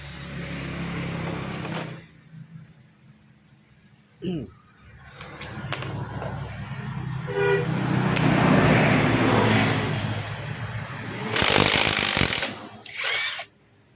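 A power tool works on a motorcycle shock absorber's axle bolt in several loud whirring bursts with brief stops and short clanks between them, against steady background road noise.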